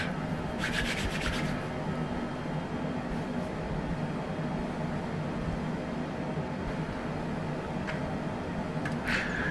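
Steady cabin hum of a Citation Longitude business jet in Microsoft Flight Simulator, a constant broadband roar without pause, with a few faint clicks over it.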